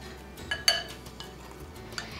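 Garlic, onions and basil being gently mixed in a bowl, a few soft scrapes and a couple of sharp clinks of a utensil against the bowl, close and quiet, no talking.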